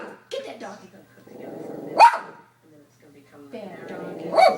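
A dog growling at its own reflection, low rumbling growls with sharp bark-like outbursts, close by, mixed with people talking.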